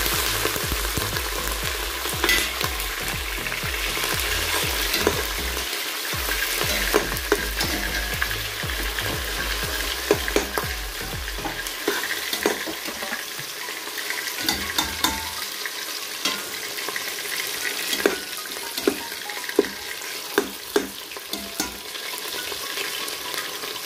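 Shrimps and smoked meat frying in a pot for a sliced-tomato stew: a loud, continuous close sizzle and crackle with scattered stirring clatter, no voices.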